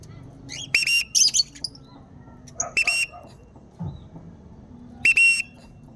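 Several bright, high whistles from a bird in a large tree ring out in short bursts separated by pauses, sounding from some distance over a faint low background rumble.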